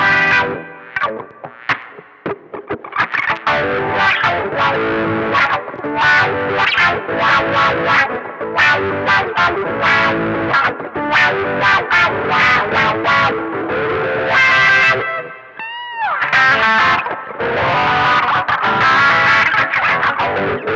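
Electric guitar run through a wah-wah pedal placed after distortion, heavily overdriven and sweeping through vowel-like tone changes as chords and notes ring out continuously, loud and close.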